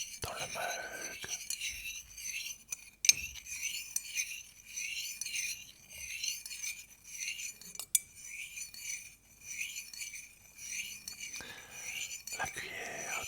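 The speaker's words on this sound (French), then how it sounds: "La cuillère tourne dans le mug de thé, du thé de Noël aux épices bien, bien chaud" A spoon stirs spiced Christmas tea in a mug, giving soft, close clinks and scrapes in a gentle rhythm for several seconds, with quiet whispering over it.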